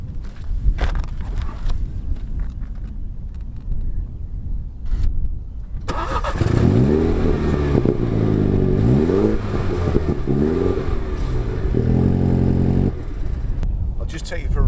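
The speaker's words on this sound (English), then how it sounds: "Let me just give it a rev." A 2016 MINI Hatch John Cooper Works 2.0 engine starts up and revs loudly several times in rising and falling sweeps, with a steady idle between blips, close by.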